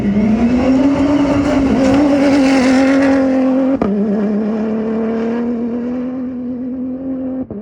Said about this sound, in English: And then you hear the Dacia come by,